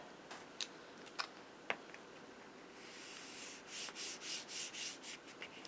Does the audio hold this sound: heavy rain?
no